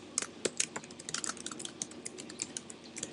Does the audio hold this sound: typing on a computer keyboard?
yes